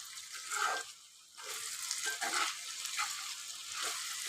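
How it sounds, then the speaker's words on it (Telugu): Potato and gokarakaya frying in oil, giving a moderate hiss and sizzle with bursts of stirring scrapes, fairly close and without any voices. "ఆలుగడ్డ, గోకరకాయ చూడండి ఎట్లా మంచిగా ఫ్రై అయితే అయ్యిందో ఆయిల్లో."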